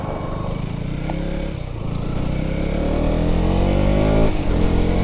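A KTM Duke 200 motorcycle engine revs up close by, its loud droning note climbing steadily in pitch as it accelerates, then briefly dipping before pulling on again.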